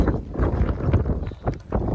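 Steady, loud wind buffeting the microphone, with gusty low rumbling throughout and no voices.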